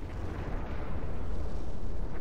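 A cannon fires in the strategy game Planetary Annihilation, producing a dense, rumbling explosive roar that holds steady and builds slightly over two seconds with no clear separate shots.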